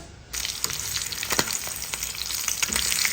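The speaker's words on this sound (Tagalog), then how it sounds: "Nagpainit na ako ng oil dito, then magpiprito na tayo nito." Salted, dried milkfish fries in hot oil in a home kitchen, giving a steady crackling sizzle with popping spatters; it starts abruptly, stays close and fairly loud, and runs alone without talk.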